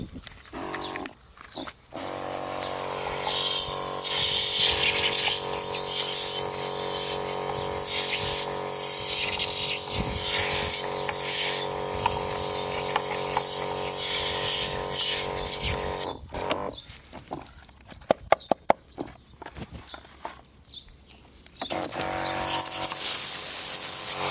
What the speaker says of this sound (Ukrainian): пробуємо відмивати його електричним оприскувачем